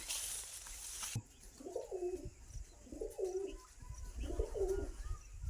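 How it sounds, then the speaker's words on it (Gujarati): Pigeons perched near a jowar field coo in three slow, evenly spaced phrases, fairly close and soft over a quiet outdoor background, with no talking. "જો કબૂતરને બધા બેઠા છે"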